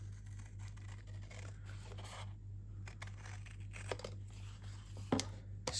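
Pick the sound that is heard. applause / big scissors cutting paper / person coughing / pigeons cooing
big scissors cutting paper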